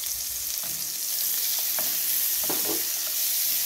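Chopped large onion frying with lightly browned smoked calabresa sausage in a pan, a steady close sizzle with a few scraping stirs partway through.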